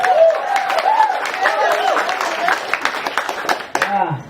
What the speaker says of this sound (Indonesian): Kalau tepuk tangan jangan tanggung-tanggung